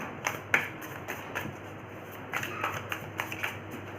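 Tarot cards shuffled and drawn from a deck, giving a run of soft, close riffling flicks and brief slaps in irregular bursts, with no voices.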